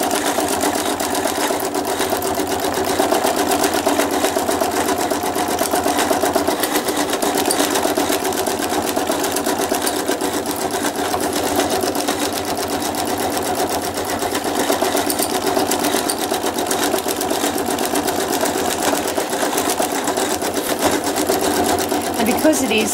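A sewing machine stitches white thread through puffy, padded fabric, running as a steady, continuous mechanical whir close by, with a voice speaking at times over the motor.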